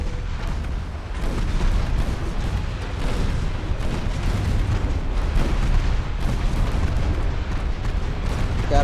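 Warship guns fire in Ultimate Admiral: Dreadnoughts as a loud, sustained barrage of heavy booms and rumbling blasts that overlap without a break, with no voices.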